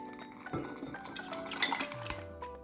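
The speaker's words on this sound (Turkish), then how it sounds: "bir kaseye alıp çırpıyoruz" A whisk rattles and clinks against a bowl in a short burst of quick, light metallic strokes, close and with no voices.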